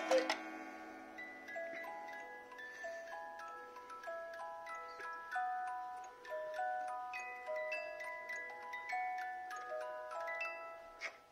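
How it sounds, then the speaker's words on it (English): A wooden eight-day German beer garden cuckoo clock with dancers ticks steadily while its music box plays a plucked, tinkling melody over the ticks, quiet and close throughout. "today we'll show you the beer drinking Cuckoo clock"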